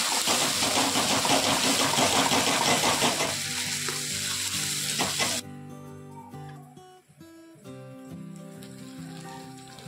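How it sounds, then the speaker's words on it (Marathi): Onion-garlic masala, red chilli powder and turmeric sizzling in a pan, a loud steady frying hiss that drops in the second half, where a tonal hum and clinks come through. "त्यानंतर आपण 1 चमचा कांदा लसूण मसाला, 1 चमचा लाल तिखट व अर्धा चमचा हळद टाकून घेऊन आपण हे परतून घेऊया।"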